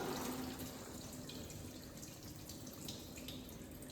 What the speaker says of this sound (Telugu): ఏ కప్తో అయితే రైస్ తీసుకున్నానో అదే కప్తో two cups of water add చేసుకొని కుక్కర్లో పెట్టేసుకుంటా